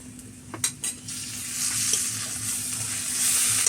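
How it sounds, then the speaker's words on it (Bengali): Chopped ginger and ground coriander and cumin fry in a pan in an Indian village kitchen, with a few stirring scrapes early on, then a steady sizzle that swells and hisses on alone. "আদা কুচানি দিয়ে দিলাম তার সঙ্গে আমি যে ধনার জিরে গুঁড়ো করা ছিল সেটাও আমি দিয়ে দিলাম"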